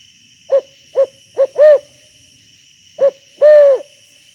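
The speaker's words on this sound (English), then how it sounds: "it went from a barred owl to a screech owl now" A barred owl hoots in short, clear calls, shifting toward screech owl sounds: four quick hoots, a pause, then two more, the last drawn out, over a steady background hum of insects.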